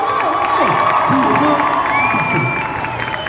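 A dense convention crowd at a Paris manga event cheers, whoops and shouts continuously, with children's high voices and whistles rising above a loud, sustained roar.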